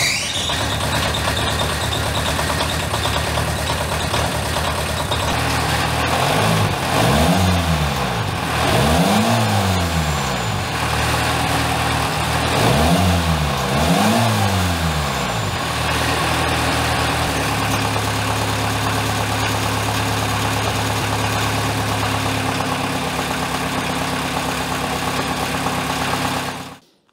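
A homemade DIY mini loader's engine idles close by, then revs up sharply in four rising and falling bursts before dropping back to a steady idle and cutting off.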